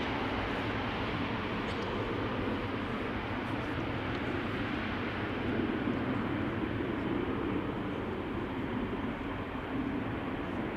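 Steady, loud broadband jet roar from a Vueling airliner landing at Amsterdam Schiphol Airport, holding constant throughout with a low rumbling undertone and no voices.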